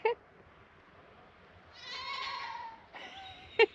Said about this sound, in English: Just a man casually taking his goat for a walk.